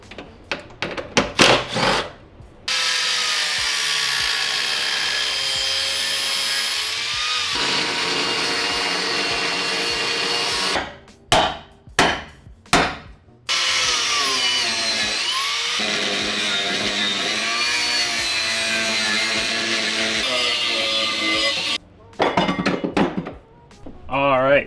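Power cutting tool slicing a slot for the handbrake line through a Nissan 350Z center console, loud sustained high-pitched whine in long bursts broken by short pauses and brief stop-start cuts.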